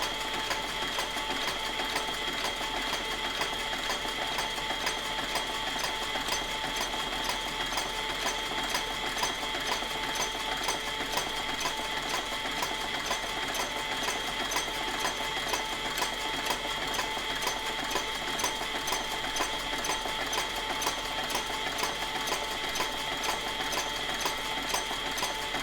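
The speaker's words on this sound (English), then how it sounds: "stitch attaching the zipper to the bag" Sewing machine stitching a zipper onto a bag runs in one steady, even stretch of rapid mechanical stitching, moderately close and continuous throughout, with no voices.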